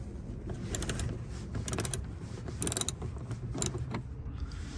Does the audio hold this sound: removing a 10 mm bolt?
yes